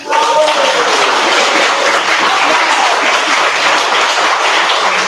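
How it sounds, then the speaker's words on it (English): Dense audience applause welcoming author Nancy Johnson at a university book event, a loud, steady wash of many clapping hands that holds for the whole stretch. "Let's give Nancy Johnson one round of applause."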